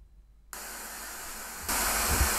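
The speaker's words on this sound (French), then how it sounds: "Il est où le bruit blanc?" White noise test signal played through a headphone amplifier (iFi Audio micro iDSD), starting after a brief near-silence, a steady broadband hiss that jumps louder partway through.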